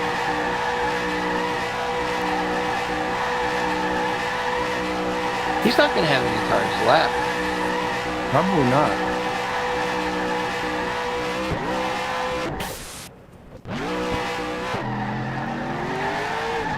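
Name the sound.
race car spinning circles, tires squealing, from racing video game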